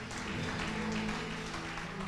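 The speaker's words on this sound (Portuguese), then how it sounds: "Aplauda o Senhor no seu lugar." A church congregation applauds together during a worship service, a steady dense wash of clapping that fills the space, with organ or keyboard tones sustained underneath.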